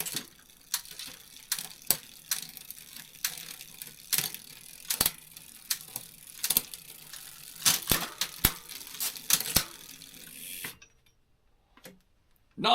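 A bicycle chain being cut apart on a '97 Pegoretti build gives a run of sharp metallic clicks and snaps at irregular intervals, close and crisp, ending in near silence.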